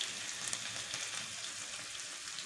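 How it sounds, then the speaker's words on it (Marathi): Turmeric sizzling in hot oil in a pan while making dingri mushroom chutney, a steady soft crackling hiss with tiny pops, close and continuous without talk. "आपल्याला याच्यामध्ये हळद टाकायची थोडीशी, खाली तेलामध्ये जळण घ्यायची"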